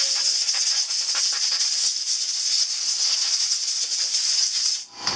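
Compressed air hissing steadily to blow excess separator off dental acrylic work on a thumb partial, a loud continuous close blast lasting about five seconds before cutting off abruptly.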